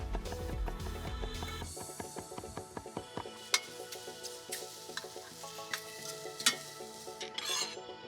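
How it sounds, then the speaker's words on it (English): Mushrooms seared cut side down in an even layer in a hot pan, a steady sizzle and frying crackle with scattered clinks and scrapes, the sizzle heavier at first then continuing more lightly beneath occasional utensil taps. "Cut side is down and they are in an even layer, so they are all touching the pan."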